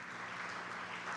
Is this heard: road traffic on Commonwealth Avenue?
no